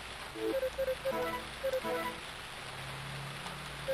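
Steady, faint hiss of rain falling in the farming video game Harvest Moon: Friends of Mineral Town, running under soft, sparse chiming game music.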